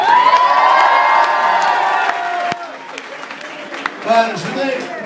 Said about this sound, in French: On peut applaudir Ismaël, quand même.